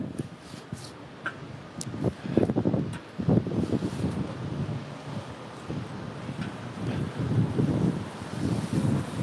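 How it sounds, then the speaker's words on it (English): Strong wind buffets the microphone outdoors in near-freezing April weather, in loud uneven gusts that rise and fall throughout. "And the wind is so strong."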